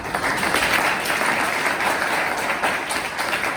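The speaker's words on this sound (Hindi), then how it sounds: "बात पे तालियां बजाना चाहते हैं तो जाते हैं।" A class audience claps together in a classroom, a loud, dense, continuous patter of many hands lasting the whole stretch, with no speech on top.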